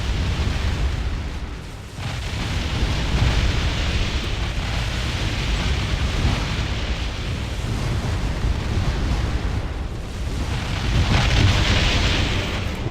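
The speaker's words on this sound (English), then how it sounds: "you can see each barrage is tearing through the spaceport" Spaceship barrages pound a spaceport in the space strategy game Distant Worlds Universe, a continuous rumbling wash of explosions that swells and surges for several seconds, loud and dense, with no voices.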